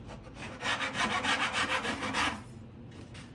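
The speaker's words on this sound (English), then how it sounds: "A heavy rasp." A heavy rasp files a wooden part of a Gerstner-style tambour-front machinist's chest, giving a run of rapid, close rasping strokes for about two seconds before easing off, alone with no talk.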